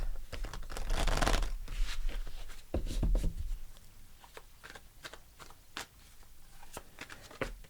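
Crisp riffling and scraping of tarot cards being shuffled close by, a few bursts of flicking followed by scattered taps and slides.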